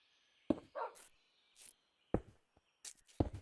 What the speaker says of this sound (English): You are such a noisy doggy.